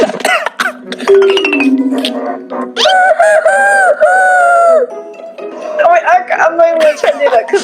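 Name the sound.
person imitating a rooster crowing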